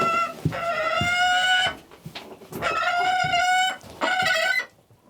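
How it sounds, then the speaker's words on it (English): An Arctic gyrfalcon, the largest falcon, gives loud, harsh, drawn-out calls in three long bursts separated by short pauses, close by and clear. "This is the bird, that Arctic gyrfalcon, and this is the largest falcon."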